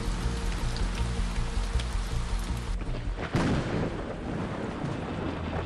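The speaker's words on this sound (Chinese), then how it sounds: "突如其来的雷阵雨" A sudden thunderstorm pours heavy rain, a steady close downpour hissing on surfaces, broken by a sharp thunder crack midway before the rain rolls on.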